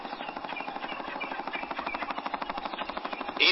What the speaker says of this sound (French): C'est le bruit d'un hélicoptère